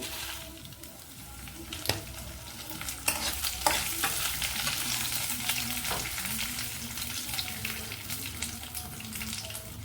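Dried red chilies frying in a pan for a Telugu brinjal curry, a steady close sizzle with scraping stir strokes and a few sharp clinks, continuous throughout.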